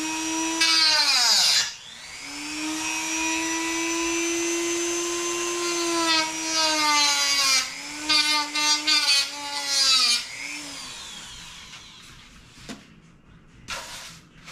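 A small power tool whines steadily while grinding a part on a JetScout model build, a loud, close, high-pitched motor tone lasting several seconds, dipping as the load changes, then stopping with some faint handling noise at the end.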